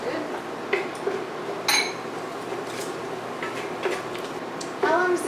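A utensil scrapes and clinks against a pan while browning ingredients are stirred, with irregular metallic taps and scrapes under ongoing kitchen conversation.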